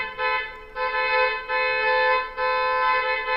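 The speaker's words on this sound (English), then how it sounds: "This is the familiar, which is car horn" A car horn sounds in four loud, sustained honks, each held for about a second with brief gaps between, the steady harmonic tone blaring alone.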